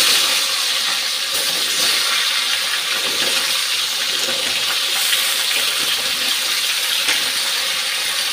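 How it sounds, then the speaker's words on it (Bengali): Potatoes fry in hot oil, a steady, bright sizzling hiss with fine crackles heard up close and continuing evenly throughout without talk. "এখন আলুটা ভাজতে দিয়ে দিচ্ছি।"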